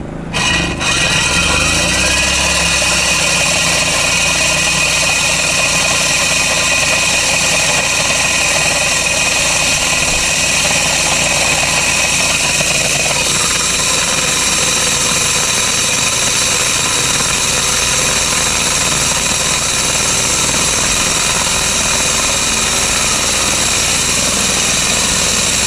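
An engine-powered coring machine runs continuously while coring ground in a yard, giving a loud, steady mechanical drone with a rough grinding, rasping texture that holds for the whole stretch with no talk.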